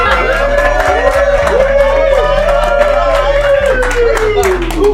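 Live audience at a music show breaks into loud, sustained clapping and cheering with whoops, a dense crowd roar over steady music throughout.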